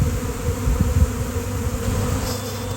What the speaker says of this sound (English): I don't know what kind of bee that is, but those are the thousands and thousands of them.